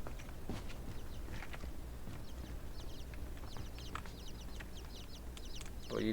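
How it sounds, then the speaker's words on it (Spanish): Chicks cluck and peep in the video game Inside: small, scattered chirps over a low ambient game background, with soft footstep-like taps throughout. "Pollitos."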